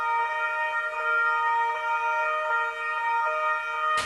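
Several emergency-vehicle sirens wail together in a sustained, steady chorus at a memorial for two police officers killed in Trieste, loud and continuous throughout, with no talk over them.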